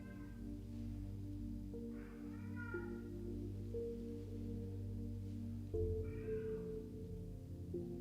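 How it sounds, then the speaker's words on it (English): A hungry house cat meows a few times in a quiet room during a candlelit yoga session, its calls rising and falling over a steady background of soft ambient music. "I think our cat is a bit hungry right now"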